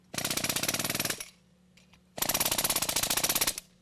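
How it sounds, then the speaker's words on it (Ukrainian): Two long bursts of a jackhammer breaking concrete during bridge repair, rapid and loud, separated by a short pause with the low hum of a mobile compressor engine. "Маємо відбійний молоток, маємо компресор пересувний."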